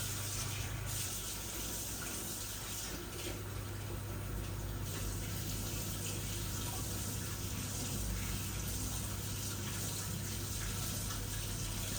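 Tap water runs in a steady, continuous stream while ginger lemons are washed under it, a close, even gush with no voices.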